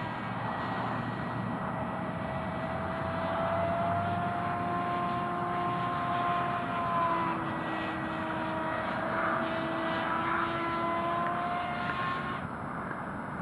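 A model airplane flies at wide-open full throttle, held low to the ground, its engine a steady high-pitched whine that shifts in pitch as it passes, moderately distant and without talk.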